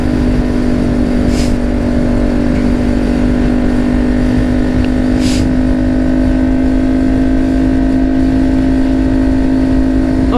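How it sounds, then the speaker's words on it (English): A motorcycle engine droning at a steady, loud pitch while riding in second or third gear, with rev-matched downshifts, the hum constant and close, with no clear blip of revs standing out. "we're gonna try the rev match that Jacob taught me"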